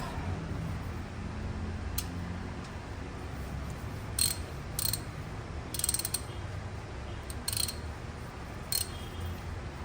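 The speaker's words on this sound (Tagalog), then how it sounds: "Higpitan ko pa siya ng torque ko." A hand torque wrench tightens a brake part during a brake overhaul, giving short, sharp ratcheting clicks in a few separate bursts over a low, steady background hum, close and fairly quiet, with no talking.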